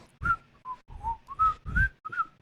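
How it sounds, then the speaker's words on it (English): A person whistles a short traveling song in clear, close phrases of rising and falling notes, alone without talk. "Why does the count whistle? Traveling song."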